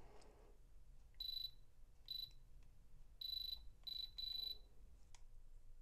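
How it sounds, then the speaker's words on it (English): A high electronic jewelry tester beeps in short rapid bursts as its probe touches metal, about five separate clusters, against quiet background hiss. "when it touches the metal, it makes that rapid beep like that"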